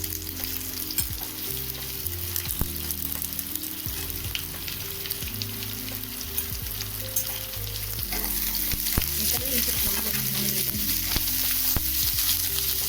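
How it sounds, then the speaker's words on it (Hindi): Chopped onion, garlic, ginger and green chilli fry in a pan for mixed veg handi: a loud, dense, unbroken sizzle with irregular knocks of the stirring spoon over a low steady hum. "प्याज भी अब फ्राई हो गया है"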